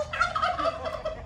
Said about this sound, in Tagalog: kakabulin ko yung pabo